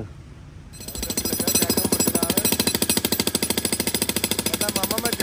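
Jackhammer breaking up driveway concrete, a loud continuous rapid hammering that kicks in after a short quieter start and runs steadily, with voices faintly underneath.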